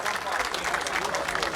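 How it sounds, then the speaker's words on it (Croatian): Audience applause ringing out at a horse pulling contest in an arena, a sustained patter of clapping from the crowd with a voice talking over it. "Ovaj aplauz dovoljno govori koliko su dobri u areni"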